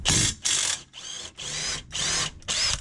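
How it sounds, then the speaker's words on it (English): A ratchet with a 19mm socket loosens the lower control arm bolt at the subframe of a 2019 Honda Pilot, sounding as six loud, close bursts of rapid clicking with brief pauses between strokes. "Using a 19mm, loosen the lower control arm bolt that ties to the subframe"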